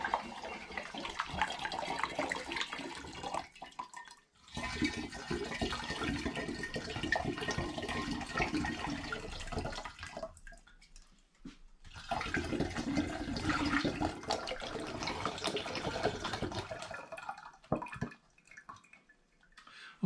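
Apple juice glugging and splashing as it pours into a fermenter for turbo cider, a steady close liquid stream with two short pauses between pours and no talking.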